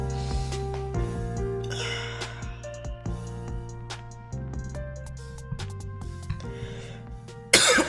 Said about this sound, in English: I don't know where that damn cough came from.